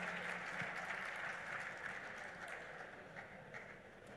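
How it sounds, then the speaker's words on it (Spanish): Audience applause welcoming two speakers onto the stage at the C1b3rwall 2024 cybersecurity conference, a steady, fairly quiet wash of clapping from a seated crowd that holds even throughout. "Pedro y Manuela, un aplauso para ellos, por favor"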